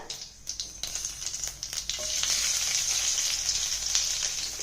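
Cumin seeds sizzling in hot oil for a tempering, a few sharp crackles at first, then a continuous bright hiss that swells and holds, close up.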